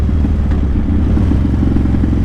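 A motorcycle being ridden, its engine a steady, loud mid-range drone with a rumbling low end that holds throughout, with no talk over it.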